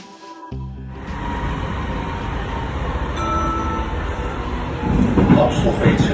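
An Amsterdam metro train rides along with a steady rumbling roll of wheels on track, growing louder and rougher toward the end, heard from inside the car with faint voices in the background.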